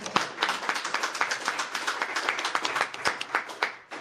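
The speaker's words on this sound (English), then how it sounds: "So let us give them a round of applause." Council members and commissioners receive a round of applause at an Illinois state employee event. The clapping is moderately quiet and dense, continues for several seconds and fades at the end.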